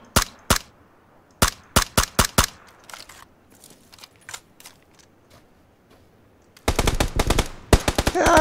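Video game gunfire from a bolt-action rifle and other weapons: loud sharp shots in clusters at the start, scattered fainter pops through the middle, then a dense rapid burst near the end, with no talk.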